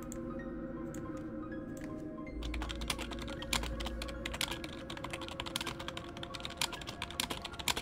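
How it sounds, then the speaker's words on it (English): Computer keyboard typing, rapid irregular clacking keystrokes close to the microphone, starting sparse then turning into a steady busy patter over low room hum. "Now you guys can hear my keyboard."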